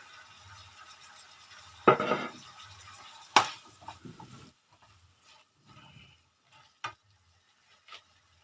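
Long beans and pork neck are stir-fried in a pan, with a soft sizzle and a few sharp spatula clanks, the scraping thinning out toward the end.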